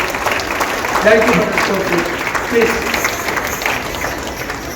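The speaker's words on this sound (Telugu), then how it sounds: "ఒక్కసారి అందరు క్లాప్ చేస్తే మా సన్మాన గ్రహీతలు కూడా చాలా ఉత్సాహంగా ఉంటారు." Applause for honourees at a reunion of old friends in Parlakhemundi: a moderate, fairly even clapping that runs under and alongside a speaker's voice over an amplified hall.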